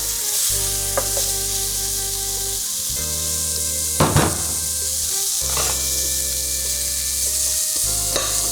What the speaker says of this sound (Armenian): տապակը տաքացնում ենք, սոխը բովում